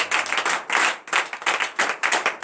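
A church congregation claps during morning prayer, close and loud bursts of hand clapping in quick irregular rhythm, broken by short pauses roughly every half second.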